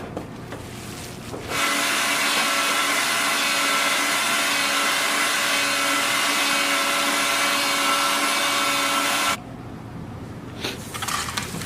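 Deer meat runs through a meat grinder for venison burger, a loud steady motor whine with a constant buzzing hum holding for about eight seconds before cutting off abruptly, with quieter room noise at either end.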